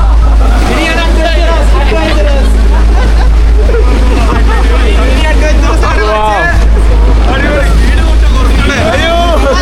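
A speedboat runs across the sea off Malta, its loud engine and wind roar constant beneath lively chatter from several people on board.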